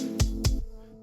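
Two sharp, heavily compressed hi-hat hits in a song, crushed and ticking like a time bomb, landing close together over a low sustained bed that fades after the second hit.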